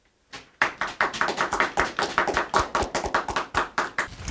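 An audience at a health seminar breaks into applause after a short silence, with steady, lively clapping from many hands continuing throughout.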